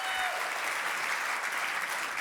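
Audience clapping at an awards dinner, a dense and steady round of applause from a full room that carries evenly from start to finish without any voices over it.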